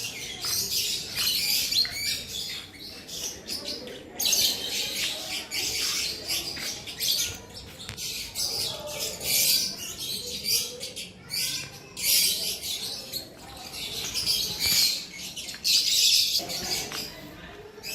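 Parrots squawk and chirp in a dense, restless chorus, with shrill calls overlapping and repeating throughout at moderate distance.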